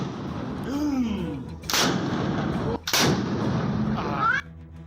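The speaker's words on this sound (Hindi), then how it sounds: "इन लोगों के हवा में फायरिंग करने का जो वीडियो सामने आया उसमें एक मकान की छत पर ये सभी लोग एक एक कर बंदूक से फायरिंग करते दिखाई दिए" Two loud, booming gunshots ring out about a second apart over a steady noisy background as guns are fired into the air from a house rooftop during a birthday celebration.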